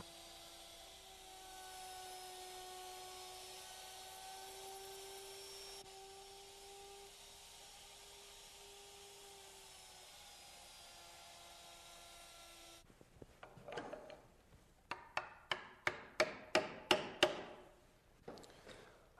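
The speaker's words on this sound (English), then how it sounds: "I would route all the tread mortises and then all the riser mortises." A router cuts a riser mortise in a wooden stair stringer using a jig. A steady mid-level motor whine runs for about thirteen seconds, followed by a series of sharp, rhythmic bursts.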